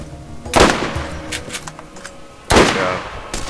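Gunfire in Borderlands, two loud close bursts of shots with smaller pops between them amid game noise.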